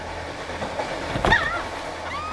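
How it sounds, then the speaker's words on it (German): A passenger train travelling at 120 km/h, giving a steady broadband rolling roar with a brief louder swell and faint squealing tones midway, no voices. "120 Stundenkilometer fährt der Zug"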